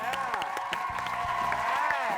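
Studio audience at a televised dating show applauding and cheering as a guest is welcomed, a dense steady wash of clapping with scattered whoops, with overlapping voices from a host throughout.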